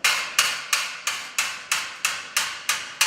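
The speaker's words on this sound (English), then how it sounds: "just going to grab a hammer, and I'm going to just punch a hole" A hammer strikes a scratch awl to punch a hole in sheet metal, nine sharp, evenly spaced metallic taps at a steady rhythm, close and fairly quiet, with no talking.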